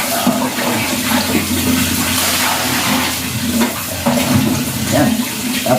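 Cold shower water running and splashing steadily at close range, a loud continuous hiss with shifting spatters as a person bathes.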